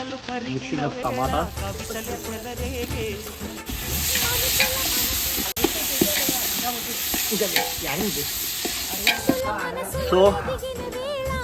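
Carrots being stirred and fried in a pan for a vegetable version of chicken biryani, a steady sizzle with scraping stirs running throughout, close and fairly loud, with a voice talking over parts of it.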